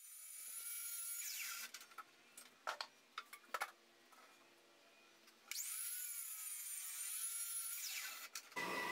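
Power tools mill solid ash lumber in a woodshop: a long, loud whining run, a stretch of knocks and thumps as boards are handled, then a second sustained whine that cuts off abruptly.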